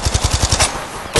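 Rapid automatic gunfire from an Apex Legends battle, about seven loud, evenly spaced bursts in quick succession that then give way to a quieter tail and one more shot at the very end, with no talking.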